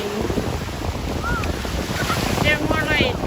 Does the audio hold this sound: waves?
yes